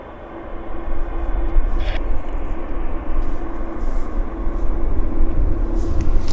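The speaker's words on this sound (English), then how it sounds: "apparently we've got Lufthansa. Yes, I see the quad jet." A Lufthansa Airbus A340 quad jet arriving from Frankfurt at Vancouver airport makes a loud, sustained roar with a steady whining tone that swells and stays strong throughout.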